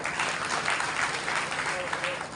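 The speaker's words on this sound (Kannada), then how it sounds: "ಅವರಿಗೆ ನಿಮ್ಮ ದೊಡ್ಡ ಚಪ್ಪಾಳೆ ಬರಲಿ" Audience applause at a building inauguration, a steady wash of many hands clapping throughout, fairly even in level and fading slightly at the end.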